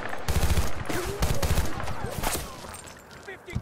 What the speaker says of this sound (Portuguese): Tô tomando tiro de tudo quanto é lugar.